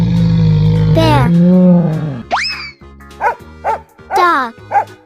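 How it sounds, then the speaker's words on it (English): A dog barks in a series of short, clipped bow-wows spaced across the second half, after a humming drone and a rising cartoon-style whistle. "Dog."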